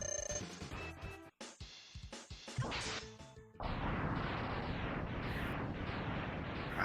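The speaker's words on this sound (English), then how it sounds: "We got the synchronized boss explosions." Rapid crashing and booming explosions from two synchronized boss kills in Mega Man X, several bursts stacking up and then merging into a sustained loud roar of blasts.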